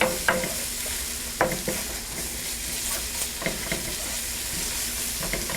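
Pressed garlic sizzles steadily in a hot pan while a utensil stirs it, the soft frying hiss broken by several sharp scrapes and taps against the pan.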